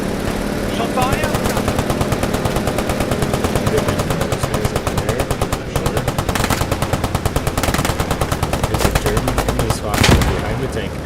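Rapid machine-gun bursts and rifle fire in the World War II shooter Squad 44, near and loud, rattling almost continuously in long volleys with a heavier blast near the end.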